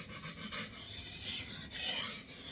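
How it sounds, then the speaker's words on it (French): A Schrade 7-inch knife blade scrapes back and forth across a well-soaked whetstone, producing a soft, dull, rhythmic rasping at close range with no voices. "vous entendez la pierre, elle a un bruit assez sourd. Parce que là, la pierre, elle est bien mouillée"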